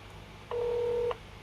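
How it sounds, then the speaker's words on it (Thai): An OPPO Reno 2F phone on bottom speakerphone sounds a single electronic dialing tone for about half a second, steady and clear over faint background hiss, with no talking. "เรามาลองโทรกัน เดี๋ยวจะโทรแบบเปิดลำโพงด้านล่างก่อนนะครับ"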